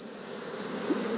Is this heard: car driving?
no